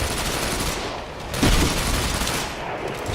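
Sniper rifle fire in the video game Ghost Recon Phantoms, a loud sustained burst of gunfire with a sharp report near the middle, amid dense battle noise.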